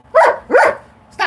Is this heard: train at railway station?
no